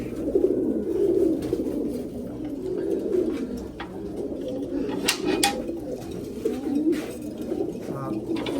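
Pigeons of a 72-type breed coo continuously in a loft, a low, rolling murmur of several birds with occasional sharper wing flaps or clicks, steady and fairly close throughout.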